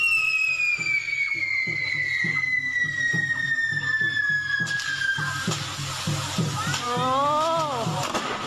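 Fireworks set off at Wat Chedi Liam, an ancient Lanna chedi temple in Chiang Mai, send long whistling rockets gliding downward in pitch over steady crackling, then a denser burst of pops and rising whistles near the end.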